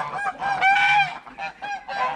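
Several geese honk nearby in quick, overlapping calls, loud and clear with short pauses between bursts.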